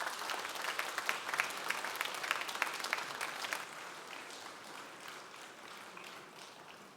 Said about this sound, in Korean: 앞으로 나올 때 우리 박수해 주시겠습니다.